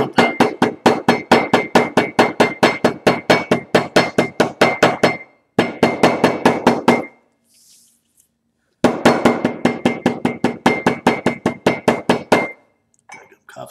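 Ceramic coffee cup clinking and rattling as it bounces on a workbench while a hammer drives leather buckstitching chisels, with rapid, loud, evenly spaced strikes in long bursts separated by short pauses.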